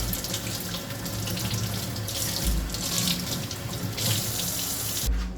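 Lukewarm or cold tap water runs steadily into a sink over cut celery, a continuous close splashing rush with slight shifts as the stalks are rinsed, then a brief change right at the end.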